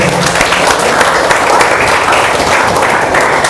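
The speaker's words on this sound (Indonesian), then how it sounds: "Tepuk tangan untuk kalian semuanya." Loud, sustained applause from a school talk-show audience, steady and dense clapping filling the whole stretch.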